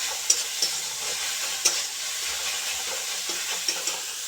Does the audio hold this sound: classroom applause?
no